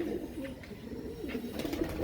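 Soft, low coos from a flock of large white Kaldume pigeons repeat in a steady murmur, with faint higher chirps and rustling around them; no one speaks.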